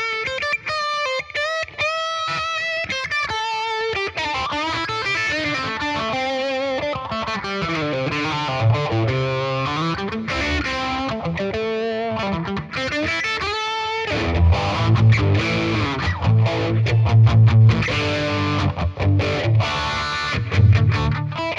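An electric guitar plays through a Boss Katana amp with modulated tape-style delay, a clean melodic line with wavering echoes that grows into a thicker, distorted, louder passage near the end, played alone.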